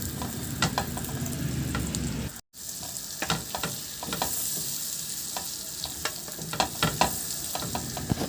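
Oil and margarine sizzle in a pan for Filipino pansit, a close, steady frying hiss broken by scraping stirs and a brief silent cut partway through, with no talking.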